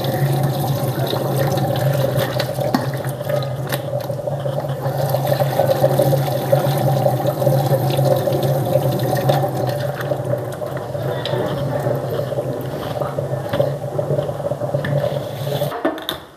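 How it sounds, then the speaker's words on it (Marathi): Tap water runs steadily while raw chicken is rinsed in a home kitchen, a close, continuous gushing and splashing flow that is cut off abruptly at the end. "3 पाण्याने आपण हे चिकन स्वच्छ धुवून घेऊया।"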